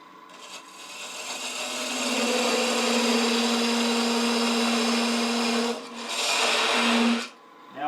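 A parting tool cuts into a spinning piece of wood on a lathe, a steady scraping whir with a strong hum that swells, dips briefly near the end, then resumes before stopping.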